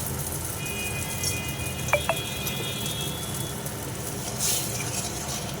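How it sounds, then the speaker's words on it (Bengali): Oil with salt and turmeric sizzling in a wok, a steady soft frying hiss throughout with a couple of faint clinks near the middle, close by and without speech. "আমি কড়াতে তেল দিয়ে দিলাম তেলে দিয়ে দিলাম একটু লবণ একটু হলুদ"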